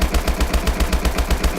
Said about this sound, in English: So here's the normal HBRa3 fire rate